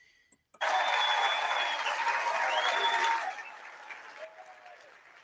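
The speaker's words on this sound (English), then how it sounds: "Crowd got loud." A large crowd at CPAC 2025 in DC bursts into loud, dense applause and cheering that holds for a few seconds and then tapers off into scattered claps over low background noise.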